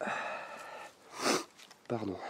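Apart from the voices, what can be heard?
sniffing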